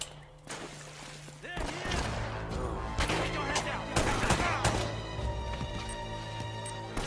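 A burst of rapid gunfire from Uncharted rings out in quick repeated shots over continuous background noise, loud and close, while someone talks during the shooting.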